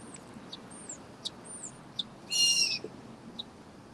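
Birds calling outdoors: several short, faint chirps spaced through the clip, with one brief louder burst of rapid twittering midway, over a low steady background hiss.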